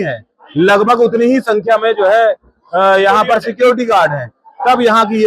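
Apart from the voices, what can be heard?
No distinct noise like a dog, phone or traffic.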